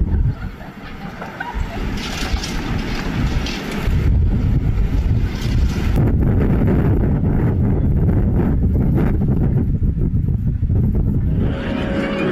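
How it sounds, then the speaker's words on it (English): Strong wind roars and buffets the microphone in heavy, continuous gusts, loud and close, with low rumble dominating for the whole stretch. "See the wind blowing. Look at the strength of the wind."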